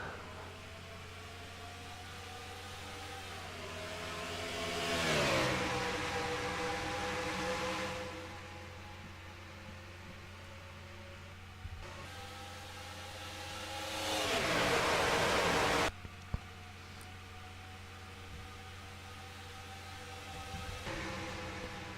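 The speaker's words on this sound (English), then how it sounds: "Scott Roush will be leading that field to the green flag here at Homestead" NASCAR Xfinity Series stock cars racing under the lights at Homestead, Florida, with a steady engine drone broken by two loud surging passes that rise and fall, then a sharp clatter.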